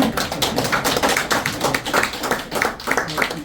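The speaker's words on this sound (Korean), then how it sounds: "그리고 서로 건강하라고 박수도 한번 쳐줘." Audience at a seminar gathering claps together in a dense, steady burst of close, loud applause that lasts several seconds, with a few voices mixed in.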